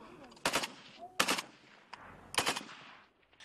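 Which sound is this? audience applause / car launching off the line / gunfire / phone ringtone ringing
gunfire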